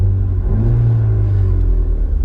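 A Volkswagen MK7 GTI with a manual swap idles steadily after running for a while, a deep, even engine rumble close by with a brief rise in pitch early on.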